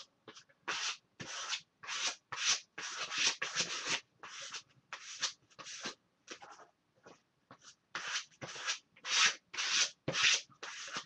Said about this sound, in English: I'm just going to scrape some yellow on.